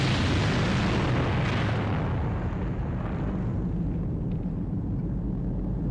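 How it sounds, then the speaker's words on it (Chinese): China's first atomic bomb test at Lop Nur in Xinjiang, heard as a massive, loud, sustained rumbling roar that fills the whole span and slowly loses its upper edge as it rolls on, with no voices. "随着一声巨响，巨大的蘑菇云在新疆罗布泊腾空而起，中国第一颗原子弹爆炸成功"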